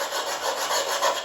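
Sandpaper scrapes steadily over the rusty metal casing of a microwave, a close, continuous rasping stroke with no talk.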